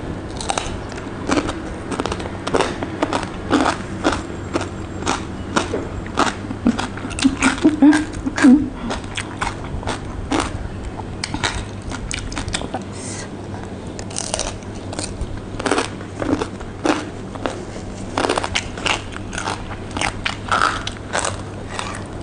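Close, loud crunching and chewing of crispy pork belly alongside a Thai seafood papaya salad, with rapid crackly bites repeating throughout and occasional speech in between.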